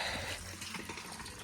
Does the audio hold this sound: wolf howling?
no